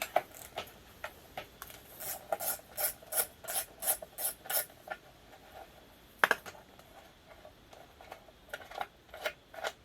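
Wrench working a bolt on a 1987 Kawasaki KE100 motorcycle, giving a run of quick, evenly spaced rasping ratchet clicks in the middle, with a sharp metallic clank near the end and scattered clicks after it.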